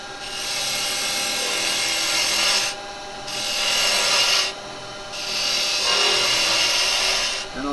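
Roughing gouge cutting a spinning wooden blank on a woodturning lathe, a loud continuous rasping hiss in three long passes separated by brief pauses, with no talking.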